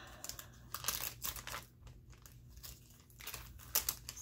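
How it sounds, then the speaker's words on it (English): Scotch tape is peeled off a paper or plastic mail bag, making quiet, close crinkling and rustling in short, uneven bursts with brief pauses. "I'm going to remove some of this scotch tape."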